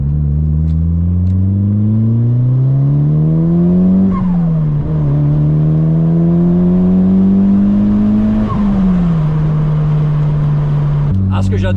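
A Mitsubishi Lancer Evolution 5 drives on the road, its engine a loud, steady drone rising through the gears, with two audible shifts and a drop in pitch at the end; the sound fills the cabin.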